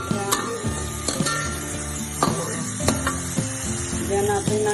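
Blended spices being stirred and sizzling in a hot cooking pan for a bitter beans dish, a steady close frying hiss with repeated scraping and clinking strokes of the utensil.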